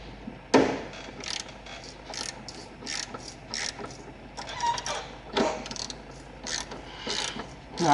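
A 13 mm hand ratchet clicks steadily while backing out a bolt on the steering shaft of a Hummer H3, with sharp knocks of metal on metal between the close, dense bursts of ratcheting.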